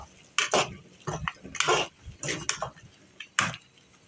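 Minced keema is mixed with crushed green chillies in a metal cooking pot, with a quick, irregular series of close spoon scrapes and clanks against the pot.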